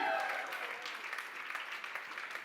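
Crowd at an Aarya Season 3 trailer launch claps and cheers, a dense patter of applause that is loud at first, then eases to a steady, fainter clatter.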